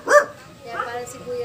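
A single sharp, close dog bark in an outdoor garden of vegetable plants, followed by fainter whimpering yips.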